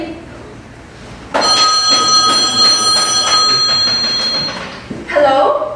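An old-fashioned telephone bell rings loud and close in a steady repeated jangle for several seconds, then stops, followed by a brief burst of another ring, in a radio drama set in a bedroom.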